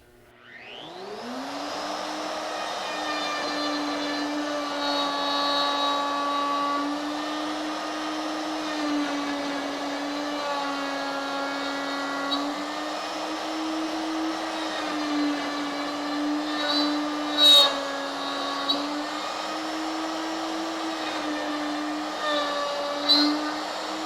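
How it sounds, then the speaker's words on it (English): A router with a 1/2 inch bit cutting a mortise gives a loud, sustained whine with small shifts in pitch as it cuts, and brief clunks near the end. "once you get up to around a 3/8 inch or a 1/2 inch router bit, they're pretty solid, so taking sideways cuts works out pretty effectively."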